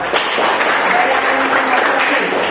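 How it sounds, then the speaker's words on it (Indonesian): Pupils in a classroom give a short burst of steady clapping, close and fairly loud, lasting only a couple of seconds. "Tepuk tangan ya."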